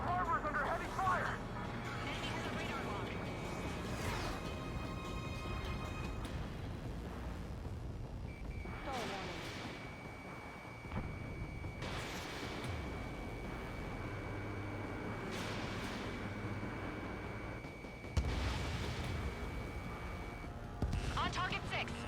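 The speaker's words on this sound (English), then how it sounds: "The harbor's under heavy fire." Heavy gunfire and explosions at a harbor in the Ace Combat 7 video game, with repeated booming blasts and a dense, continuous roar of combat beneath frequent radio voices and game music.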